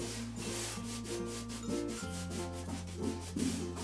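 A cloth pad rubs shellac onto clean wood in steady, rhythmic back-and-forth strokes, close and continuous, with no one speaking.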